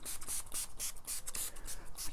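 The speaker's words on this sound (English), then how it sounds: "I'll just spray it all over" C22 solvent sprayed in repeated short hissing bursts from a spray bottle over a hair system's lace front, close and fairly loud, with no talking.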